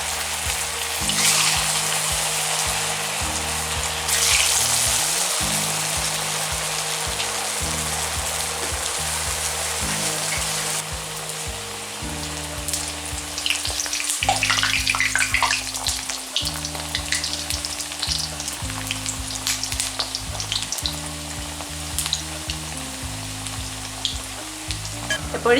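Flattened kuzhalappam dough pieces go one by one into hot oil and fry over a medium flame. A loud, continuous crackling sizzle fills the scene close up, over faint low tonal music.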